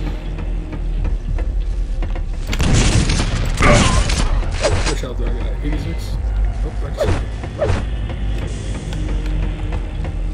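Rocket launcher fire in the arena shooter Quake 3 Team Arena: several loud, booming blasts arrive in an uneven cluster, then two more later, over constant game noise.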